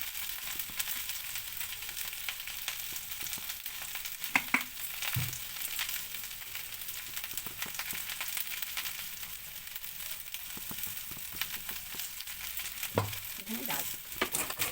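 Onion fries in a pan with a soft, continuous sizzle that stays fairly faint, broken by occasional stirring scrapes and small knocks.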